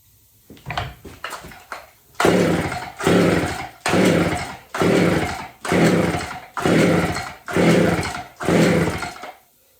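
An old Homelite 150 automatic or McCulloch 610 chainsaw is pulled over a few times, then runs in loud, close, rhythmic bursts as the throttle is blipped about seven times, each rev rising and dropping back.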